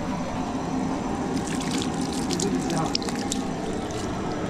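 Water pouring steadily into a pot, a continuous splashing rush with a faint voice in the background.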